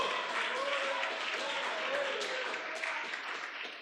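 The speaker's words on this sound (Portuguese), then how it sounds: "Vamos aplaudir ao Senhor" A church congregation applauds together in a steady, dense wash of clapping, with a voice calling out faintly over it as the applause gradually eases.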